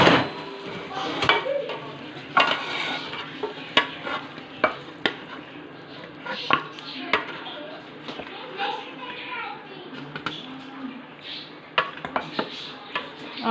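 Chicken tandey curry is stirred and fried in oil in a pot, with a soft sizzle beneath repeated scraping and clinking of a metal spoon against the pan, mixed with background voices.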